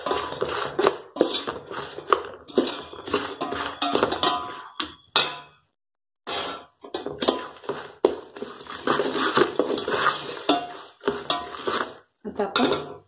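A spoon clinks and scrapes against a pan as a garlic-chili spice mix is stirred for Sangli-style spicy puffed rice, in irregular clattering strokes with a brief pause partway through.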